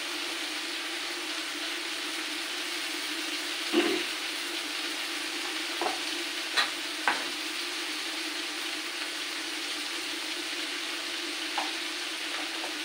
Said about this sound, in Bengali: মাছটা তাহলে ভাজা হচ্ছে।